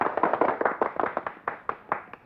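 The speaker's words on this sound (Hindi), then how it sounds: "तालियां!" A small group claps for a couple of seconds, the uneven claps fading out rather than building into big applause.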